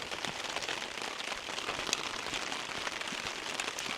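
Steady rain falling outdoors during a storm in Norway, a dense hiss of drops pattering on surfaces with scattered sharper taps, continuous and fairly close.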